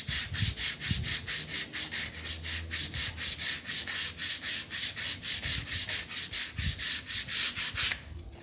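A Harley-Davidson motorcycle part is sanded by hand, with steady rhythmic back-and-forth strokes of even loudness repeating about three times a second, close up and without talk, stopping just before the end.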